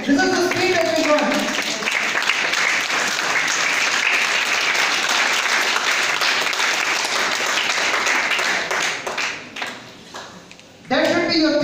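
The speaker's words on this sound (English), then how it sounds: "Kindly clap for them." An audience applauds students at a classroom lecture, broad steady clapping held for about nine seconds before fading out, with speech starting again at the end.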